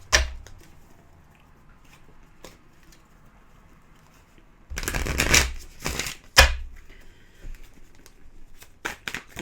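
Animal oracle cards shuffled by hand during a tarot reading: two bursts of riffling and flapping, the first longer, with sparse soft taps and rustles before and after in a quiet room.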